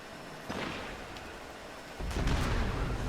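Gunfire and explosive blasts in the Destiny 2 video game, a muffled distant burst early followed by a louder, heavier rumbling volley of shots that continues to the end.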